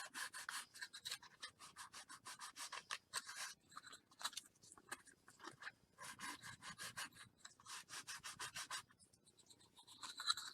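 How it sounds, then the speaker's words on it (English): Wood being sanded by hand with sandpaper, with quiet, close, rhythmic back-and-forth scratching strokes in quick, steady succession. "This is really easy wood to sand."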